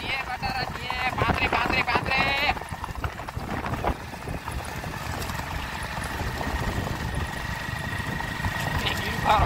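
A horse's hooves clip-clop in a quick running rhythm at a rewal chal horse race, close by and fairly loud, with people talking over them and a steady engine-like hum in the background.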